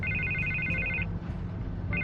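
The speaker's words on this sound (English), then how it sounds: "I can't get the phone to stop ringing." A telephone rings in the Telltale Batman video game, an electronic trilling ring that repeats in two bursts with a short gap between them over a low, steady background hum.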